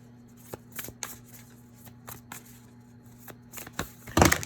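Tarot cards being shuffled and drawn for a reading: a series of quick, close, crisp riffling and flicking bursts at an irregular pace, ending in a louder flurry of shuffling.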